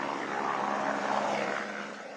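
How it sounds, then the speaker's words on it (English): A rescue helicopter flies over a flash-flood zone at Dharali in Uttarkashi, its rotor and engine drone forming a steady, moderately loud roar that holds level and then fades slightly, with no voices. "Helicopters are doing the heavy lifting, bringing stranded people to the nearest army base."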